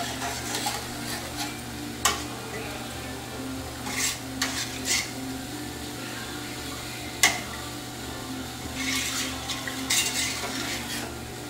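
A spoon stirs a cup of brown sugar into apple cider with cinnamon in a pot, making soft repeated scraping and swishing with a couple of sharp metallic clinks over a low steady background hum.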